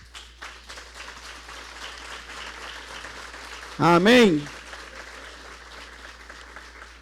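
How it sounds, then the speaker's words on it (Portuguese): Congregation clapping in a Brazilian evangelical church service, a moderate continuous patter of many hands, briefly interrupted by a louder single voice calling out before the clapping carries on. "Aplauda forte ao Senhor."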